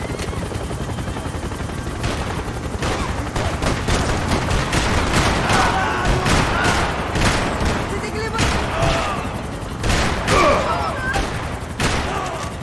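Heavy overlapping gunfire in the video game Max Payne 3, a loud continuous barrage of shots and impacts with shouting voices mixed in throughout.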